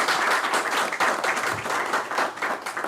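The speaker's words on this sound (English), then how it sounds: "A round of applause for" An academic conference audience applauds the university Registrar and deputy vice-chancellor, a steady, moderately loud round of clapping filling the room.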